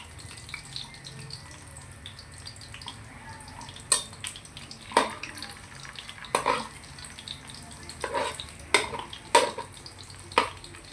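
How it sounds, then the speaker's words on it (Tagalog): Kikiam fish balls fry in a pan with a soft, low sizzle, broken by several sharp clinks and scrapes of a utensil against the pan at irregular intervals. Nobody speaks. "ipipirito muna natin yung ating kikiam"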